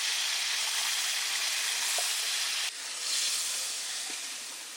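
Spice-washing water poured into a hot pan raises a loud, steady hissing sizzle that holds throughout, briefly dipping midway before continuing, close and with no talking.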